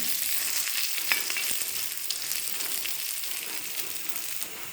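Dried cinnamon leaf and curry leaves frying in hot oil in a small iron pan for a street-stall-style chickpea curry, a steady close sizzle crackling throughout with a few sharper pops.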